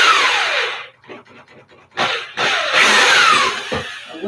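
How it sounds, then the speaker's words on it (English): Cordless drill spinning in reverse to back screws out of a bathroom vanity cabinet during a remodel, close and loud, with several whirring runs broken by short pauses and faint wood clatter. "I just have the drill set to reverse out the screws"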